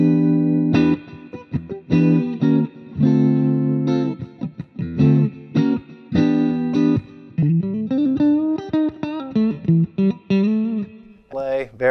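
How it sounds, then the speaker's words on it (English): Fender Player Series Stratocaster with Alnico 2 pickups played through a Positive Grid Spark amp in a clean tone: chordal strums and melodic lines with subtle reverb ambience, loud and close, no talking. "This is a Fender Player Series Stratocaster."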